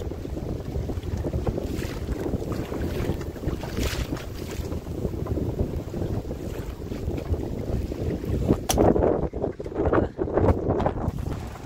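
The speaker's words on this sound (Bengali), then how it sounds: "আর এদিকে ঝড় বৃষ্টি একসাথে" Strong storm wind and rain rush over a river in the Sundarbans during a fishing trip by boat, with heavy buffeting wind noise on the microphone, water sounds and clattering bumps growing rougher near the end.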